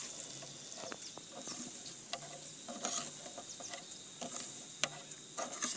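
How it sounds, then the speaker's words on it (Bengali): Rice sizzling in hot oil in a pan, frying until reddish, with a constant close hiss and repeated scraping taps of a spatula stirring the grains, no voices. "দিয়ে আমি সুন্দর করে চালটা লাল লাল করে ভেজে"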